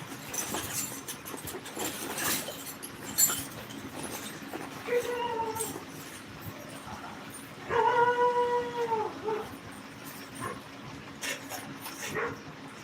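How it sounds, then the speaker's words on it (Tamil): A dog howls and yelps from some distance. Two drawn-out, wavering cries come about three seconds apart, over faint background noise and scattered clatter. "என்னங்கிற நாய் குறைக்குது. யார் வராலான்னு தெரியல."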